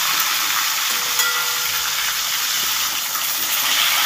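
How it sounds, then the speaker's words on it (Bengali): Pieces of fresh katla fish frying in hot oil, a dense, steady sizzle that holds close and even across the whole stretch. "হালকা করে ভেজে নিচ্ছি"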